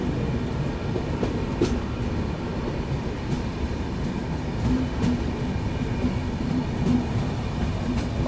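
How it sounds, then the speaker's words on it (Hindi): A delayed passenger train pulls out of Dibrugarh railway station, producing a steady rumble with faint rhythmic wheel clicks on the rails, heard from on board at moderate, continuous loudness. "फाइनली भी अपनी ट्रेन निकल रही है लगभग 1 घंटे 10 मिनट की देरी से डिब्रूगढ़ रेलवे स्टेशन से"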